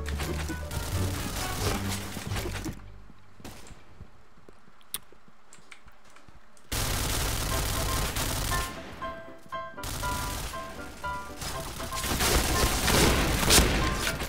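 Gunfire in the shooter game Point Blank, dense bursts of rapid shots and booms that come in loud clusters, break off into a near-silent lull, then resume heavily and build toward the end.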